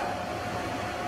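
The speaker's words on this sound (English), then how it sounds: "I'm sure you can hear my air conditioner blowing in the background here" An indoor air conditioner blows in the background on a hot day, a faint, steady whooshing hiss with a soft constant hum, unbroken for the whole moment.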